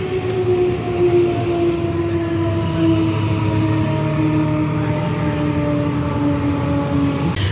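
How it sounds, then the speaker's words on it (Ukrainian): A loud air raid siren in Kamianske, Ukraine, wails steadily, its rising and falling tones sustained throughout with no pause. "це таки була початок повітряної тривоги"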